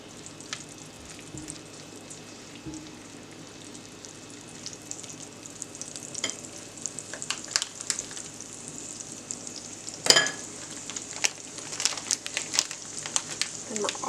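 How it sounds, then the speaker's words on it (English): Chopped onion sizzling in melted bacon grease in a pan for a rustic sausage potato soup, a steady soft crackle and hiss with occasional stirring clatter and a sharper pop near the end, with some talk nearby. "Now that our bacon grease is melted, we're going to add some onion."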